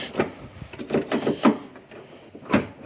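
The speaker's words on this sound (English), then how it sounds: "As you can hear, close the door, open the door, close the door, open the door." The rear barn door of a 1997 Mitsubishi Pajero is shut and opened several times in a row, giving close, solid thuds and latch clunks with short gaps between them.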